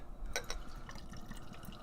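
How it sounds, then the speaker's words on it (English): Short's Brewing Company Snow Globe Double IPA poured into a 12-ounce glass, heard as a faint, close liquid trickle with a couple of small drips and clinks, quiet and without talk. "I'm going to pour it, get a little bit of head so we can get some good aromas going"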